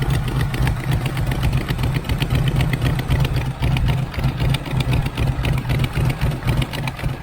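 The engine of a 1980 Camaro Z28 junkyard find runs with a possible exhaust leak, a loud, close, steady rumbling idle with a rapid pulsing ticking throughout.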